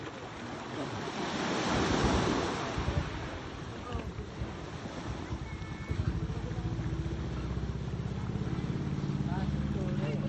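Sea waves wash onto a beach in a continuous rushing surge, swelling and settling, with heavy wind buffeting the microphone throughout.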